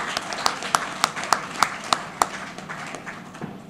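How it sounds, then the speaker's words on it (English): A small group claps for the student anchors at a school celebration: a run of evenly spaced, fairly loud claps over a soft background murmur, fading after a few seconds. "Clap for them."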